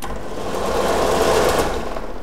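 A homemade friction heater spins at its top setting of 2600 RPM, giving a steady, loud mechanical whir with a fast rattling texture that holds constant throughout, with no speech.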